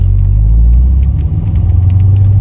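Engine-swapped Corvette C6 Z06 on the move, its deep steady engine rumble loud and close from inside the cabin, a constant low drone with no voices over it.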